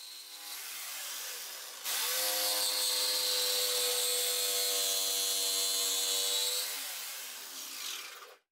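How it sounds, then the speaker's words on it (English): Jigsaw cutting a wooden circle, a loud steady buzzing whine of the reciprocating blade that rises sharply after a softer start, holds for several seconds, then winds down as the blade stops. "it is better if I wait until the jigsaw blade stops every time before I move"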